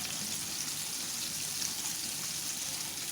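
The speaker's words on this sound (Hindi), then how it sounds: "ड्रम स्टिक हल्की आंच पे फ्राई हो रही हैं।" Chicken drumsticks shallow-frying in a pan over low heat give off a steady, even sizzle with a soft hiss that continues without a break.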